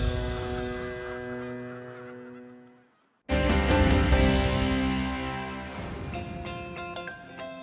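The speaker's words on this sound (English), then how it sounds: "resides a Canada goose named Crooked Bill" A Canada goose honks repeatedly at a rescue farm in Chichester, New Hampshire. The calls are loud, close and harmonic-rich, broken by a brief silence before a second burst of strong honking.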